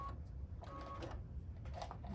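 A sewing machine joins three quilt sections in a faint, short stitching run. Several bursts of mechanical whirring are broken by brief pauses.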